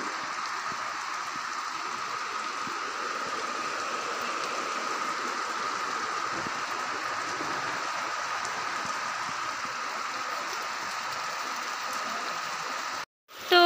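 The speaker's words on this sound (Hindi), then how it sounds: "दोस्तों आप देख सकते हो मूसलाधार बारिश हो रही है हमारे यहाँ अभी।" Heavy monsoon downpour in a Kumaon hill village, a dense continuous hiss of pouring rain holding steady and loud until a brief cut near the end.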